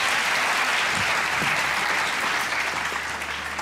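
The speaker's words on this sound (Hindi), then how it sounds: "तालियां बजाएं भाई, तालियां बजाएं।" Studio audience applause on the Pakistani comedy show Hasna Mana Hai, a steady dense wash of many hands clapping at once, loud and sustained throughout without speech over it.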